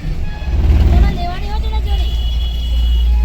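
Busy road traffic with cars and buses near a crowded market in Ahmedabad, heard as a steady, loud low rumble of engines with a few passing vehicle tones and people talking over it.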